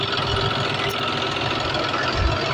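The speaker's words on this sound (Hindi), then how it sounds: "तो ट्रैक्टर जो है वो स्टार्ट हो चुका है" A tractor engine runs steadily at idle with a loud, continuous knocking diesel rumble throughout.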